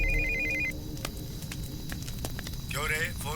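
A phone rings briefly with a high electronic ring tone, then stops, followed by room noise, clicks and a short burst of another warbling tone near the end, in a Hindi-dubbed South Indian action movie.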